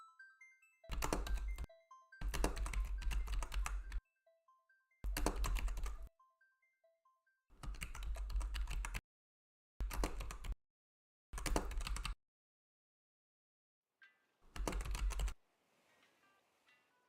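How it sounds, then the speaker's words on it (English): Bursts of clicky typing on a computer keyboard come in short, fast clusters separated by quiet pauses, close and fairly soft, with no talking. "just me typing"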